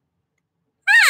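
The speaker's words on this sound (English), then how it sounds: "so a basic mew" A single short, nasal elk cow mew blown on an open reed cow call, rising then falling in pitch, close and loud after a moment of silence.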